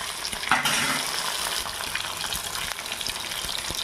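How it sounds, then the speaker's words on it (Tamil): Mutton pieces sauté in a pan with oil, whole spices, ginger-garlic and tomato, making a loud dense sizzle with a burst as they hit the oil, followed by steady crackle and stirring scrapes. "கறி போட்டு வதக்கி"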